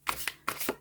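Tarot cards being shuffled, heard up close as four quick papery riffling bursts in under a second.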